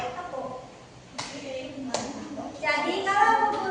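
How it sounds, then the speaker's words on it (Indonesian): A class of fifth-graders claps their hands to accompany a classroom game, sharp bursts of clapping at one moment and another, then a longer flurry of claps mixed with children's voices. "untuk mengiringi gamesnya, Bu Guru akan pakai tepuk"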